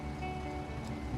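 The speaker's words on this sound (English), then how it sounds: "Rain." Rain falling in the SnowRunner video game, a dense continuous hiss of drops under a low steady background hum, with no pauses.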